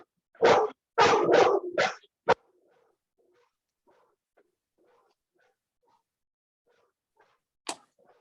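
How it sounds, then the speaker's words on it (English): A dog barks in a quick run of about five sharp, close barks, then goes quiet before one more lone bark near the end. "Dog goes nuts."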